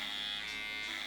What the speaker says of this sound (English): all you gotta do is get your shaver and apply it going down